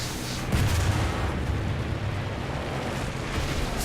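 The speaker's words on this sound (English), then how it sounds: "There's a bomb behind us." Bomb blast behind a Churchill Mk I tank in War Thunder, a sustained loud rumbling roar with a low boom near the half-second mark and continuous heavy explosive noise throughout.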